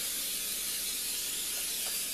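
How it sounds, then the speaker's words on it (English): A steady, broad hiss of cooking spray sprayed into a 13x9 pan, continuous and fairly close, filling the whole moment with no voices. "You spray it so nothing will stick in it."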